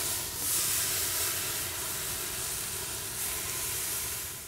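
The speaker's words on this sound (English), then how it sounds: "I just removed the skirt steak from this awesome marinade on the grill we're going." Marinated skirt steak sizzling on a hot grill, a loud, continuous broad hiss that holds steady and eases off slightly toward the end, with no talking.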